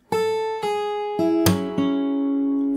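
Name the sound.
fingerstyle guitar new part of a song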